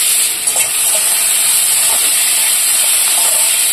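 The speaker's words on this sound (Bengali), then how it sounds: "এবার পেঁয়াজটা ভেজে নিচ্ছি।" Onion fries in white oil in a kadai, a loud, even, close sizzle with faint stirring scrapes and no talk.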